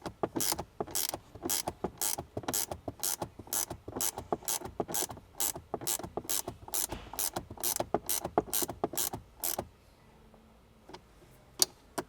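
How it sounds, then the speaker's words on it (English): A ratchet clicks in quick, steady bursts as riv nuts are tightened and compressed for a Molle panel on a Toyota 4Runner center console, close up, with a short quiet pause near the end and no talk. "And then we will go ahead and tighten this down, get them compressed"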